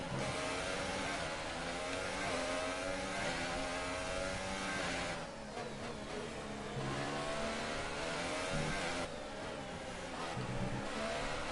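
A Mercedes Formula 1 car's engine screams through a lap of the Russian Grand Prix in the F1 2018 video game, a loud, sustained high whine that dips and climbs with shifts and braking, with no talk.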